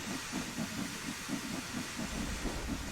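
Steam locomotive in the Train Sim World 2 game, an LMS Jubilee on the run to Liverpool Lime Street, wasting steam with a steady hiss over a low rhythmic chuffing pulse, loud and continuous throughout.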